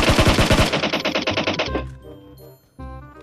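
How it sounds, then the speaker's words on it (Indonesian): Automatic gunfire in the PUBG Mobile video game: a loud rapid burst of about a dozen close shots, then ringing tonal game effects and a short final clatter. "Dia tembak lagi."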